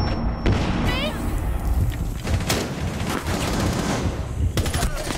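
Rapid bursts of gunfire from the video game Rainbow Six Siege, loud repeated cracks and blasts in dense clusters over game ambience, with a player talking at times.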